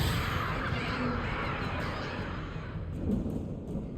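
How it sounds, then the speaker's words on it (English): In Alan Wake Remastered, crows caw during an attack, harsh calls that are partly buried under a dense, roaring wash of game noise and wind-like rumble. "why did the birds end up in the cabin?"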